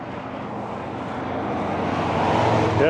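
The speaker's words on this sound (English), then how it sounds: "That's a helicopter." A small personal helicopter passes overhead outdoors, a steady loud rotor and engine drone that swells slightly as it nears, heard alone without talk.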